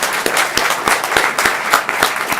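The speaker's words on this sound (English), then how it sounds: "So I want to give another round of applause to the man leading the group project" An audience gives a dense round of applause at a mayoral affordable housing announcement in Atlanta, many hands clapping steadily throughout the brief moment.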